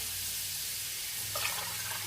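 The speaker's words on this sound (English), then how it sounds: "So I'm going to add 2 more cups of water." Water is poured into a Dutch oven pot of pork posole: a faint, steady hiss of running liquid, with a slight splashy lift near the end.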